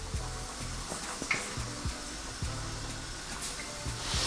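Flour-dredged chicken pieces frying in hot oil, a steady close sizzle and crackle with a few small pops and bubbling bursts, no voices.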